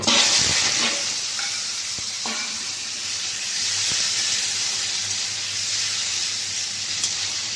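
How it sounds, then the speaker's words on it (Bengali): Hog plums dropped into tempered hot oil in a pan, a loud close bright sizzle and hiss that bursts at the start, then settles into a steady fry with a few faint utensil clicks. "এবার আমড়াগুলোকে দিয়ে দেবো।"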